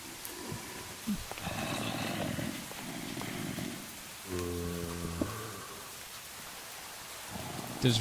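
Steady rain and rolling thunder in modded Minecraft hiss continuously, broken by several low rumbles and a deep crack partway through, with no talking.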